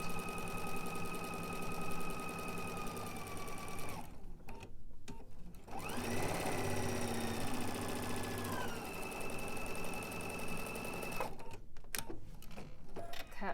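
Sewing machine stitching a partial seam, a steady close mechanical hum with rhythmic needle ticking that pauses briefly twice before running on.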